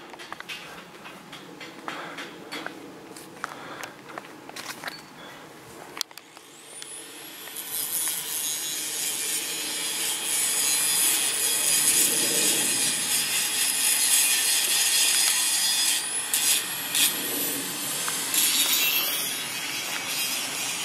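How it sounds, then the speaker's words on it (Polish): An angle grinder cuts something on a Sunday, a harsh sustained high-pitched whine that starts after a few quieter seconds and runs steadily at moderate distance. "Co się tnie szlifierkom w niedzielę?"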